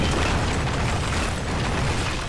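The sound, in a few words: explosion of a base in anime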